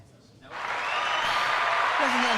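Applause swells in after a brief quiet moment and continues as a steady wash of clapping, with a voice briefly heard near the end.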